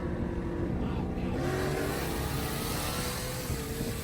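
A supercharged 900 hp 2024 Mustang GT with a Whipple kit pulls hard from a third-gear start on the street, its engine roaring loud and steady throughout with a rising pitch.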